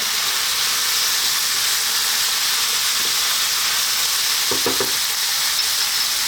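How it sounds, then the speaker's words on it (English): Fresh garlic and ginger hit a hot pan of chicken and onions in a Chinese chicken-and-broccoli stir fry, giving a loud, steady close sizzle and hiss with a few stirring clatters near the end. "at this point, we're now going to add in our garlic and ginger, nice fresh garlic and ginger"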